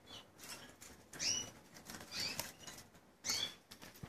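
Canaries, including Mozambique canaries, flutter their wings in an aviary in several short, soft flapping bursts, with faint chirps mixed in, close and quiet.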